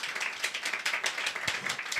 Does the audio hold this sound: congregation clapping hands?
yes